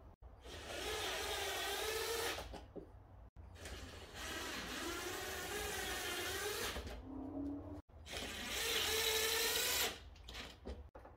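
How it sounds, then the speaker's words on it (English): A power drill drives screws into aftermarket side skirts on a 2016 Audi A7 Quattro, running in three sustained whirring bursts separated by brief stops, close and fairly loud. "screw in the remaining 5 new screws evenly across the side skirts"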